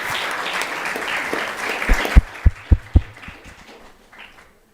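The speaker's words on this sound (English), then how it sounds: "A big round of applause for Her Grace Devaki Devi Dasi." Applause from a temple Sunday Feast congregation for the guest speaker, a steady crowd clapping that tapers off, with a few loud thumps near the end before quiet.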